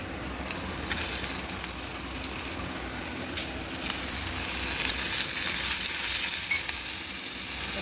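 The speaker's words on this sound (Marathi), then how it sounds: "ब्राऊन होईपर्यंत आपल्याला याला हे हलवत राहावं लागणार आहे." Ingredients for paneer butter gravy sizzling and frying in a pan while being stirred until brown, a steady close hiss with occasional scrapes of the spoon.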